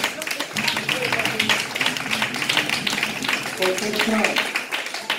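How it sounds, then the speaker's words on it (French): A church congregation applauding during a sermon on evangelism, dense rapid clapping continuing for several seconds with voices mixed underneath, full and moderately loud. "Là, on peut vraiment l'applaudir"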